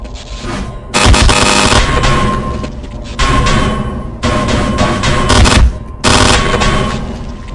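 Gunfire in the video game Half-Life, loud blasts of weapon fire arriving in several separate bursts, each sharp onset followed by sustained rattling noise, with quieter gaps between bursts.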